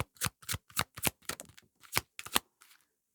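Tarot cards shuffled on a table, a quick series of crisp riffling bursts, about a dozen in uneven rhythm, close and clear with no talk.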